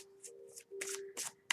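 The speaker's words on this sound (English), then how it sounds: "So I'm just shuffling the deck to tune in" A deck of tarot cards being shuffled by hand in several quick riffling bursts, close and clear, with a steady faint hum running underneath.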